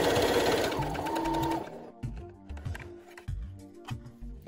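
A sewing machine with a regular presser foot runs a straight stitch through fabric, loud and continuous at first, then breaking into short bursts of stitching separated by brief pauses.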